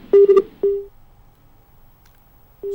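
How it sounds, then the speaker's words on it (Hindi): Telephone line tones sound as a call disconnects: a few short, loud, steady beeps in quick succession, then silence, then another tone starting at the end. "फोन डिस्कनेक्ट हो गया"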